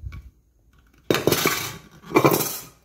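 A heavy 6-litre Tefal pressure cooker made in France is handled and opened, giving several loud metallic clanks and clinks of the lid against the pot after a quiet start.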